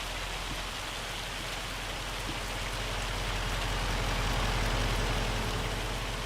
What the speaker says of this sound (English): Right now we're dealing with a hailstorm